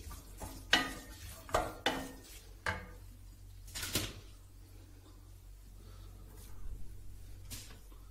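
Utensils clink and scrape against a pot while cooked pasta is stirred together with an egg sauce, several sharp metallic taps near the start and then softer, sparse scraping, with no voices.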